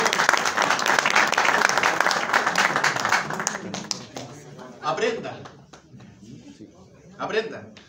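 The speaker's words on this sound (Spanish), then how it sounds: "oye, por favor, un aplauso." Audience members at a Chilean DX radio conference applaud, a dense burst of clapping that thins out after a few seconds into scattered claps while a voice talks over the tail.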